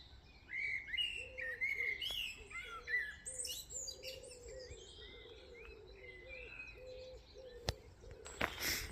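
Birds chirping near a brook, several bright calls and trills sounding close and clear over a soft, steady outdoor hum, with a sharp click near the end.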